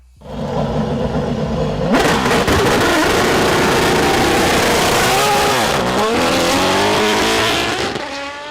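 An Aston Martin Valkyrie hypercar with a Cosworth 6.5-liter naturally aspirated V12 idles, then bursts into a loud, high-pitched rev that climbs and surges through several gear-like sweeps, close and dominant with no talk.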